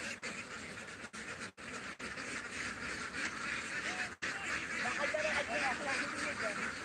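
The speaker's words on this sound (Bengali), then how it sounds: "এই যে দেখেন আবার যাচ্ছে হাঁসগুলো" Ducks quack in a large flock on a duck farm of about four thousand birds in Sunamganj, a busy chorus of calls that grows denser toward the end, with a person talking over it.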